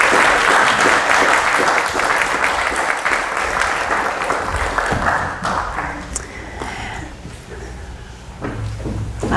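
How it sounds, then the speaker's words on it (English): Loud applause from an audience for children at a Mother's Day gathering, dense steady clapping that fills the space and slowly thins out toward the end. "Big applause to our children."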